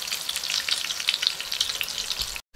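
Tofu and Spam fry in a pan with a loud, steady, close sizzle and crackle that drops out briefly near the end, with no voices.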